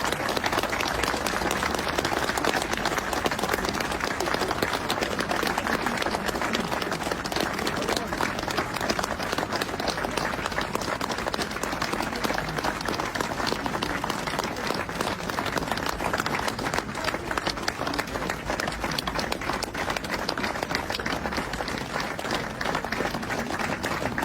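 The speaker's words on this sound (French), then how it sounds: "je veux tous, là, tous, on fasse 1 minute de silence en applaudissant cet agriculteur qui s'est donné la mort" An audience applauds in tribute to a farmer who died, a dense, continuous wash of clapping from many hands that holds steady and fairly loud throughout, with no breaks and no distinct voices.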